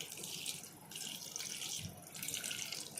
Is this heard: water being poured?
yes